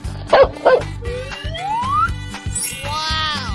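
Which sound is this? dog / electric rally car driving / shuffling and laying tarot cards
dog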